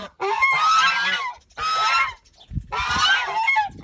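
Several geese in a poultry yard honk loudly in three bursts of harsh, overlapping calls, close by, with brief quiet gaps between them.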